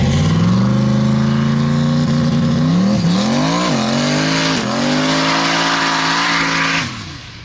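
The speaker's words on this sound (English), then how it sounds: "Hey, you guys want to do some drifting?" A car drifting, its engine roaring loud and steady with pitch swings as it revs, tires squealing through the slide before the sound drops off near the end.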